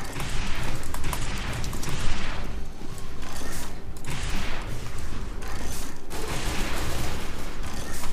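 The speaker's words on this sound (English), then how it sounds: "the explosions are not the same either. They're not quite as big and they're not quite as strong" Dense, continuous battle noise from Team Fortress 2 during a control point fight, with repeated booming explosions and gunfire layered into a loud, unbroken roar lasting several seconds.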